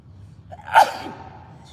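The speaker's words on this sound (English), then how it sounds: "Ooh, excuse me. Big sneeze." A single sharp sneeze bursts out near the mic, brief and breathy, over a quiet low background hum.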